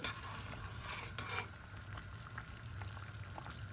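A mendek herb dish seasoned with village chili flakes simmers in a pan, with a quiet, steady bubbling sizzle and a few soft clinks, faint and close.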